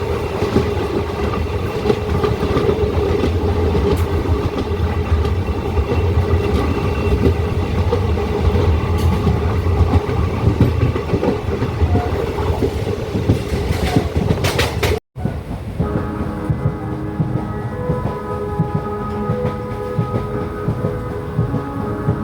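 A diesel passenger train running from Kollam toward Aryankavu rolls through Kilikollur station without stopping, a loud, steady rumble and rattle of wheels and carriages that shifts abruptly to a lighter, clattering tone partway through.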